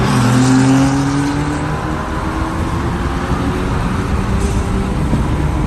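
A 2019 Honda Civic Si with an intercooler pipe upgrade accelerates hard, its engine droning loud and close with rising tones as it pulls away from another car, heard from inside the cabin.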